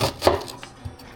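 A knife slices downward through an onion on a cutting board, giving one sharp crisp cut followed by a few fainter taps and board knocks, close and alone with no talking.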